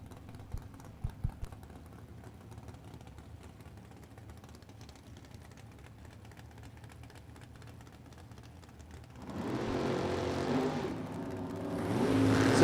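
Drag racing cars at the starting line of a class racing event, quiet clicking and a faint idle at first, then a loud engine roar suddenly swelling near the end as the trans brake is released.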